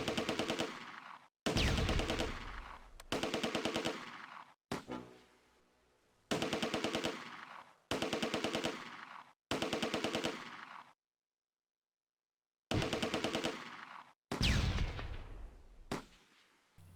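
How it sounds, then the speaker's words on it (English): Bursts of machine-gun fire in a Close Combat A Bridge Too Far firefight, set in the Schijndel dunes during Operation Market Garden: loud, rapid rattling volleys about a second long, repeated in a broken rhythm with short silent gaps and a longer pause. "The firefight starts to intensify, as the second Schützen squad gives covering fire to the first"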